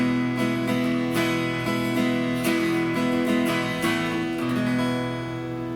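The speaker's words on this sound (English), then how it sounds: "Normally, if the guitar's in tune, it sounds pretty good." An acoustic guitar in proper tune, strummed in a steady series of full chords with ringing sustained harmonics, close and clear with no talking.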